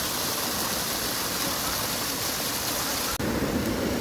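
Clear spring water rushing steadily through a stream in a green valley near Islamabad, a loud continuous wash of flowing water that holds from start to finish.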